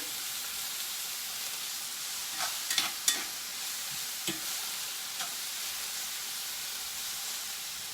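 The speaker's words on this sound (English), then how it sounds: "I'm gonna just move my vegetables around a couple more minutes here" Vegetables are stirred in a cast iron skillet, with a steady sizzle and hiss beneath a few sharp scraping clacks from the utensil, moderately close and with no talking.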